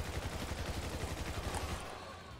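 Rapid gunfire in a PS4 multiplayer shooter game, steady bursts of automatic fire continuing loud and close throughout with no voices over it.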